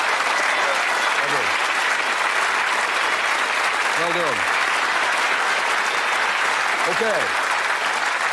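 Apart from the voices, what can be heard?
applause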